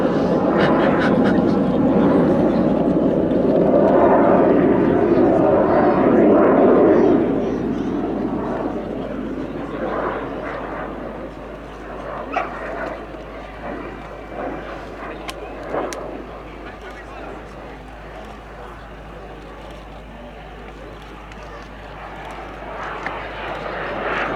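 A 1970 British Aircraft Corporation jet at an air show roars loudly for several seconds, then fades into a distant rumble with scattered crowd and background noise, a voice speaking over it.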